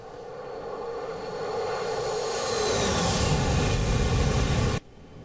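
An F-15 Eagle jet on landing approach in the DCS World flight sim, with flaps full and gear down, produces a broad, steady engine roar that swells gradually and then cuts off abruptly near the end.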